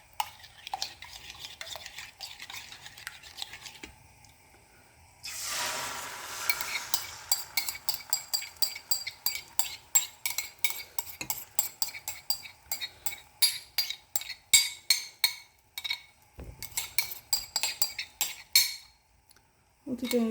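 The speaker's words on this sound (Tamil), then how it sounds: "இப்போ நான் அந்த எக்ஸை மேலே ஊற்ற போகிறேன்." Eggs poured into a pan greased with ghee for a pepperoni omelette, followed by rapid rhythmic stirring and scraping of a utensil against the pan, close and clear with soft clinks, no talk.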